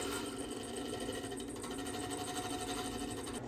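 A hollowing tool cuts the outside of a spinning segmented wooden bowl on a lathe, giving a steady, close, continuous scraping whir with fine rhythmic chatter and no pauses.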